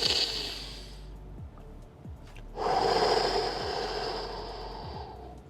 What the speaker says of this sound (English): You want to breathe in through the nose and send air in that region of your body.